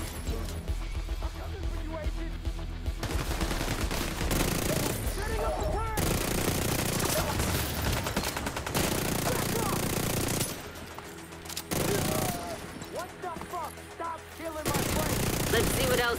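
Automated turret gunfire in The Division 2, loud rapid bursts of machine-gun fire repeating in long stretches with short gaps, close and dense, with speech under the shooting.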